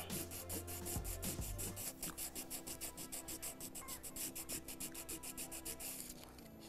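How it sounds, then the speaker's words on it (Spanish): A recycled CD is sanded with sandpaper, giving a steady rhythmic rasping scrape of repeated even strokes, close and continuous, with a brief low rumble near the start and no speech. "Y vamos a lijar muy bien, tanto por este lado como por el revés."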